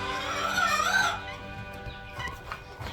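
Chickens in a hen house, with a rooster and hens giving a drawn-out, nasal, crowing-like call up close, followed by softer scattered clucks and rustling.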